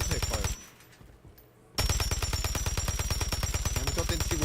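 Automatic gunfire with heavy recoil in Call of Duty MW3 multiplayer, loud, rapid and close, with a brief pause before a long continuous burst of rounds.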